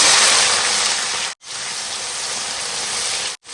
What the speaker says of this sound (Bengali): এবার পেঁয়াজটাকে ভালো করে ব্রাউন করে ভেজে নেব